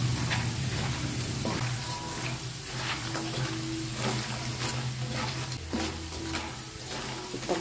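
Cassava chips frying in hot oil, a steady crackling sizzle that runs throughout with occasional louder pops and faint stirring clatter, close and continuous with no talk.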